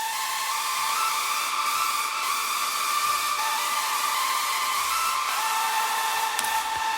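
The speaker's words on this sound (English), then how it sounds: "It's just saw wave with some tiny sync on it, and then it's FM modulated with a noise oscillator" A screamy synth lead built from a saw wave with slight sync and FM modulated by a noise oscillator holds a harsh, hissing, buzzy tone for about seven seconds, loud and steady with small dips and no talk.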